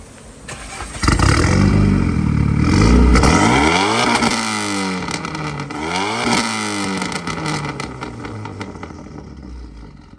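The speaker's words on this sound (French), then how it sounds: "je crois que j'ai jamais entendu une Mégane aussi avec un son aussi fort que celle-là" An ethanol-fuelled Renault Mégane revs hard, its engine sweeping up and down through several loud, close throttle blips before settling back toward idle.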